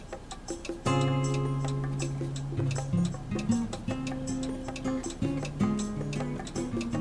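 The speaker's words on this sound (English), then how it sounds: "What do y'all think of that blinker sound?" A car turn signal blinker clicks in a steady tick-tock rhythm close by, heard over a louder sustained tonal background sound with shifting pitches.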